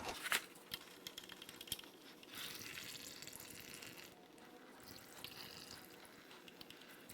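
Milky, contaminated engine oil pours and splashes steadily from a tilted 2016 Ford Focus 1.0 three-cylinder EcoBoost engine, a continuous wet gush with a few sharp knocks and metallic clinks, moderately close.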